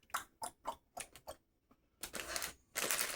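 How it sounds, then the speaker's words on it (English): Small plastic LEGO pieces click in a close, quiet ASMR setting: a run of about seven sharp taps at an even rhythm, a brief pause, then denser rustling bursts. "Clicking."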